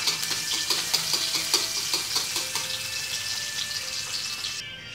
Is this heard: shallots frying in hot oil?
yes